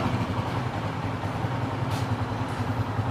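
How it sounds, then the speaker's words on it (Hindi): A 30-model MM Motors motorcycle at a Lahore dealer runs with a steady, even idle rhythm, its low engine throb continuous and close throughout. "बाइक अच्छे रिदम में, अच्छे रिदम इंजन बोल रहा है"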